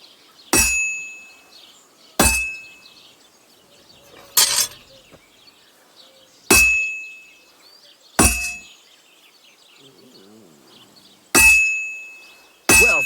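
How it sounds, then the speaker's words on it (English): Hammer blows on hot metal at a blacksmith's forge in Kingdom Come Deliverance 2, ringing out as sharp, loud metallic clangs, about seven evenly spaced strikes with short ringing decays and quiet ambience between. "you can tell a good strike by the sound it makes"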